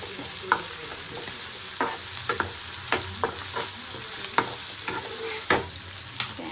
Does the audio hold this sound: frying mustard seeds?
yes